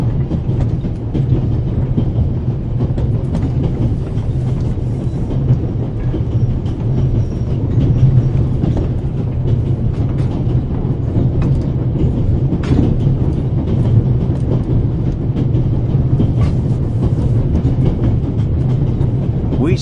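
The Orient Express rolls along in the video game The Raven, a steady loud low rumble with rhythmic rail clatter continuing throughout.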